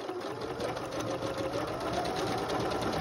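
A Britannia T65 sewing machine stitches steadily at close range, a fast even mechanical whir and tick that runs unbroken for about three seconds.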